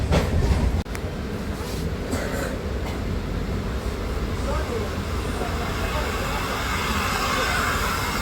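An electric Chennai Beach suburban local train runs with a steady, loud rumble and rattle of wheels on track, heard from on board with a few clanks early on.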